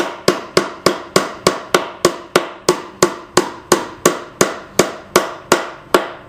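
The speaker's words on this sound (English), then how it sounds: "hammer it in there" Hammer driving nails into wood while a bird house is being built, about seventeen sharp, evenly spaced strikes in quick succession, close and clear with no talking.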